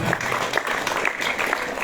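A school audience at JNV Karimganj applauds as the school captain is called to the stage, a close, continuous burst of clapping.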